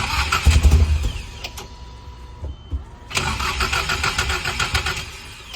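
A Lexus SC300 engine cranks over loud and close in two rhythmic bursts separated by a brief lull, the starter churning without clearly catching into a steady idle.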